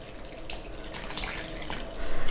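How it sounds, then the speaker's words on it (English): Oil and lukewarm water poured into a well of flour for a thin, crispy vegan pizza dough, a soft trickling splash of liquid building steadily louder toward the end, close by with no talk. "I like to just add my oil into the water like so, and then just pop that into the well of your flour"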